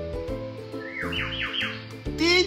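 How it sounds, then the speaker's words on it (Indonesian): Bird chirping with a series of rising, swooping whistled calls followed by a louder, sharper squawking chirp near the end, over a repeating low musical background tone. "Bunyi burung."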